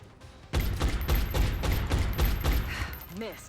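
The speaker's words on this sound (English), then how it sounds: "Cook goes on overwatch and can immediately take a reaction shot at the flanked enemy, but once again we are unsuccessful." Bursts of rapid automatic gunfire from XCOM Enemy Within reaction shots fill the scene loudly, with a voice talking over them.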